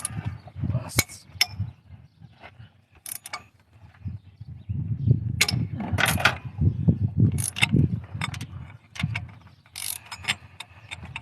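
A small Harbor Freight ratchet with a star bit works a cylinder head bolt on a 2008 Dodge Avenger, giving intermittent ratcheting clicks and metallic clinks amid low garage rumble and a man's muttering.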